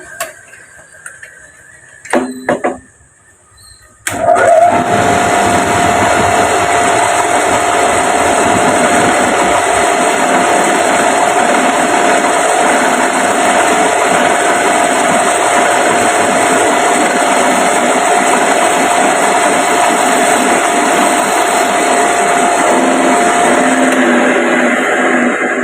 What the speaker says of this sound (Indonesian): kita menggunakan center drill